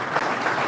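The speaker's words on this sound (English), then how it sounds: "And one more round of applause for correcting me." Conference audience applauding, a dense steady wash of clapping hands at even loudness throughout, with no voices standing out.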